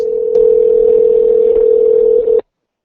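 A telephone line gives one steady, loud electronic tone that holds for over two seconds and then cuts off abruptly into silence.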